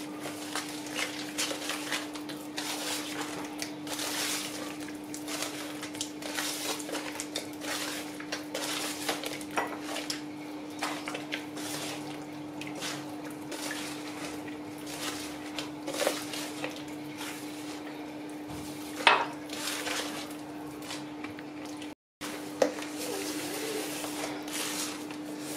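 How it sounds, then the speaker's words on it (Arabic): An egg being stirred with oil in a bowl, heard as steady close clinking and scraping of a utensil against the bowl, with a brief pause near the end. "حتى نحرك شويه البيض."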